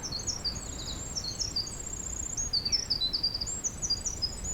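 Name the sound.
birds singing in fog on mountain trail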